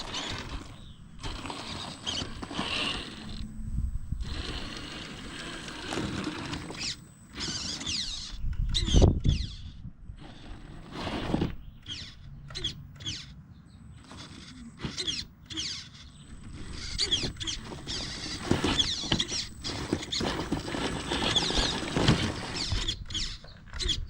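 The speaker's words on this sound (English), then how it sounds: "I'm going to test the steering servo exactly how we did the last time" Whirring, ratcheting mechanical bursts from the steering servo of an HB Toys Wilderness R1001 RC crawler truck, starting and stopping irregularly in short patters and creaks, close and fairly faint with no talking.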